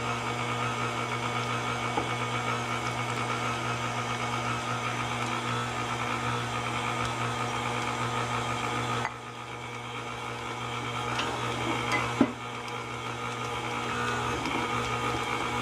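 Stand mixer running steadily while kneading pizza dough, a constant mechanical hum with motor drone throughout, briefly dipping partway before resuming with a small clank.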